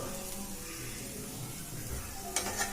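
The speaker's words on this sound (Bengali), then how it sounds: "আমি এবার এটা খুব ভালো করে ভেজে নেব" Spices for a chickpea dish fry in a pan with a soft, steady sizzle throughout, close by and fairly quiet, with a couple of brief scraping stirs near the end.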